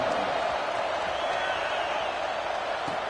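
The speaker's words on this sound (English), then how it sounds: "this crowd is buzzing after that last score." Stadium crowd at a Washington–Florida football game buzzing with a steady, dense roar of many voices, continuous and even throughout, with faint scattered shouts rising out of the wash.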